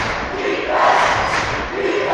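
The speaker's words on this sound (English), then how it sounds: "The student section making noise." Roaring crowd at a high school boys basketball championship game, the student section cheering and yelling in a dense, loud, sustained swell that peaks midway.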